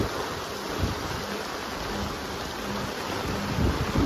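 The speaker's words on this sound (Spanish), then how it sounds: "Gloria a Dios que está lloviendo." Heavy rain pours down in Huajuapan de León, Oaxaca, a dense, continuous hiss of downpour close to the microphone, steady and unbroken, with faint low rumbles beneath and no voices.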